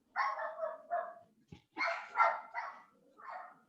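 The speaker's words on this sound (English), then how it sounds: "my dog is barking here" A dog barks several times in short, separated bursts, moderately near and fairly quiet, with no speech.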